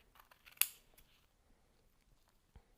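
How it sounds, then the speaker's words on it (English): Scissors snipping a small piece of felt, a faint close crisp cut with one sharp snap and a few quiet rustles around it in a quiet room, no speech. "we are just going to cut a little piece of felt here"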